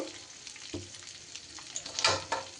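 Drained rice grains frying in a pan for potol pulao, giving a soft, steady sizzle with occasional stirring scrapes and a brief louder hiss near the end.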